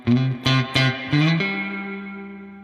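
Electric guitar notes with an added lower octave voice from an octave-down harmonizer on a Valeton GP-200, four picked notes followed by a sustained ringing chord that fades slowly.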